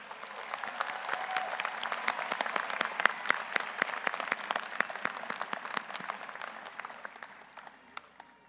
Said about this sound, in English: Please join me in a round of applause for all of our master's degree candidates.